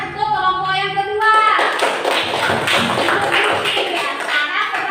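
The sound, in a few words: classroom clapping hands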